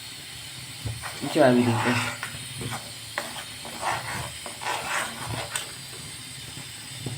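Jaggery heating in a pan until it melts and bubbles for sukhdi, a soft hissing simmer with intermittent bursts, heard under someone talking.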